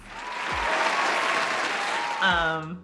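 Inserted applause sound effect: a steady wash of crowd clapping, fairly loud and continuous, with a brief tonal swell near the end as it fades out.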